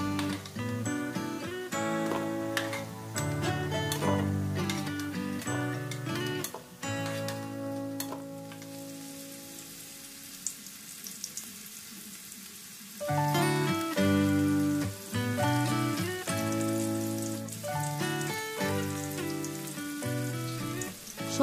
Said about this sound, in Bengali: এইভাবে করে সব বেবিকর্নগুলোকে ভেজে নেব।